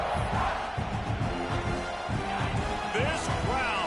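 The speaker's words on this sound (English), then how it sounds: "This crowd, full throat, splitting the eardrums and letting them know it's going to be a long day." A football stadium crowd roars at full volume, a dense, continuous wall of cheering and shouting that fills the space, with a commentator's voice running over it.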